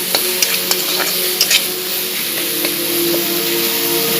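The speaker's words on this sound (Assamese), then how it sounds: "দি পেলাই এনেকুৱাকৈ ভাজি ল'ব, মিক্স কৰিব এইখিনি ভালদৰে।" Whole spices frying loudly in a pan, a bright dense sizzle up close with quick scraping stirs clustered early and spaced out later.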